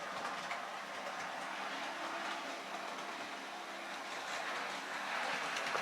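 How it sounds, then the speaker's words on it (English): A model train with NEM couplings runs along the track with a soft, continuous rattle and rolling rumble, faint and steady throughout. "Could be the NEM couplings rattling a little bit."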